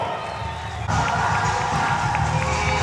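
An audience at an August 2025 event in Butembo greets a person called to the podium: after a short quieter stretch, loud cheering and applause burst out and hold steady to the end.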